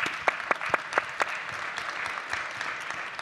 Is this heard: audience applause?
yes